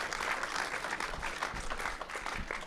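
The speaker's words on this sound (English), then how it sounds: "let's give that a round of applause" A forum audience gives a round of applause: steady, fairly dense clapping from a room of people, moderately loud and continuous, with a few heavier individual claps standing out.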